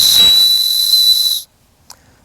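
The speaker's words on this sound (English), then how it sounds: "Don't forget it's got the whistle." Someone blows a small buckle whistle on a paracord survival bracelet, giving one shrill, breathy, steady blast up close for about a second and a half before it stops, followed by a faint click.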